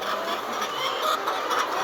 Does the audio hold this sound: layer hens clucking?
yes